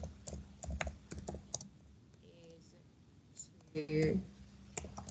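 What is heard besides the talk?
typing on a computer keyboard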